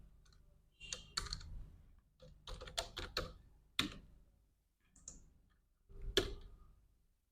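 Keys on a computer keyboard clatter in quick irregular bursts while entering a spreadsheet lookup formula, close and fairly quiet, with a few sharper key strikes and pauses between runs.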